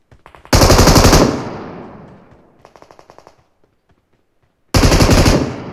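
Loud, close automatic gunfire from a video game, with two long sustained bursts and a shorter volley between them separated by a near-silent pause.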